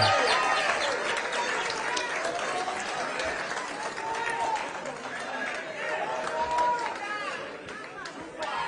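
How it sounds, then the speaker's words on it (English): A large outdoor political crowd applauds and cheers as a politician takes the stage, a steady wash of clapping and shouting voices with whistles and a voice amplified over the noise. "Another loud of applause for Baba wa kila mtu"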